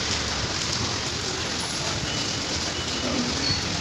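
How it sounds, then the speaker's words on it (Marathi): Heavy monsoon rain pours steadily outdoors during a shopping outing, a dense, continuous hiss that holds at even loudness throughout, with no voices over it. "किती जोरात पाऊस आहे बापरे"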